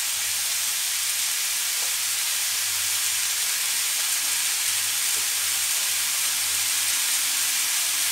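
Chopped green chilies and mushrooms frying in a pan for a stir-fried mushroom dish, giving a steady, even sizzling hiss that continues unbroken throughout with no voices.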